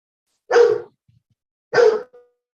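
A dog gives two sharp, separate barks about a second apart, close and loud, in an otherwise quiet room with no talking.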